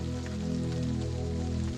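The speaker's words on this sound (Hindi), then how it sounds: "देखिए बारिश बहुत हो रही है" Heavy rain pours steadily, a dense, constant wash of drops with no pauses, with a low droning hum beneath it.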